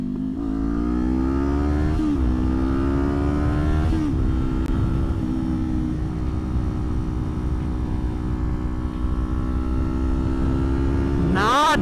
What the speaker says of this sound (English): I love the sound this bike produces.